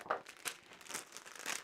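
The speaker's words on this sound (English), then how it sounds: "Let me just do this with scissors and then I'm not quite as noisy." Close, rhythmic crisp snips of scissors cutting paper for a craft, about two per second, with a dry crinkly edge and no talking.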